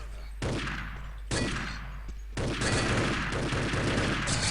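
Gunfire in a low-gravity capture-the-flag shooter match, three sharp loud volleys breaking out one after another, the last running into sustained rapid fire.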